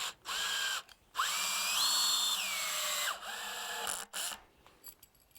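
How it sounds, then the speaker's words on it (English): A power drill drives small screws into a pre-fabricated log mantle in several short bursts, whining up and winding down close by, with brief pauses between runs. "So we'll just take 8 of these little screws here and shoot them in."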